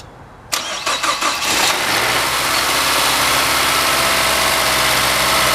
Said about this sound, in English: Now I'm going to crank the engine over and we're going to watch right inside here at the filler neck.